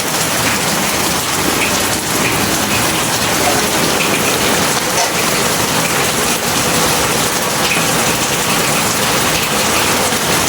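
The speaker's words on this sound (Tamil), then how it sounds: "மழை வருது தான், என்ன பண்ணுறது?" Heavy rain pours steadily onto a makeshift shelter over an outdoor village cooking fire, a loud, dense, continuous hiss of drops drumming on the surface with no pause throughout.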